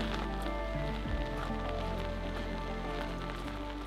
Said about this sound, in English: I wish it would stop raining, like,